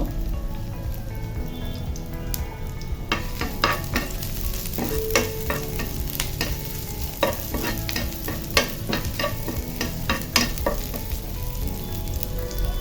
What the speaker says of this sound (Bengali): রসুনটা ভাজা ভাজা হয়ে গিয়েছে আর শুকনা মরিচগুলো ভাজা ভাজা হয়ে গিয়েছে